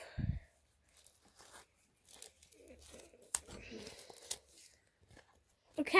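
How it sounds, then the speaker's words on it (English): Foil booster pack wrapper for trading cards ripped open with one sharp, loud tear, then lighter crinkling and rustling of the packaging, with soft voice-like sounds in between. "So let's rip this stuff"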